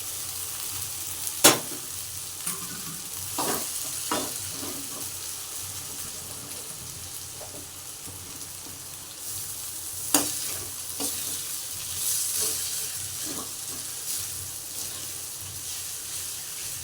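Sago pearls stirred and frying in a pan for sabudana khichdi, with a continuous close sizzle and occasional sharp scrapes and clicks from the spoon against the pan.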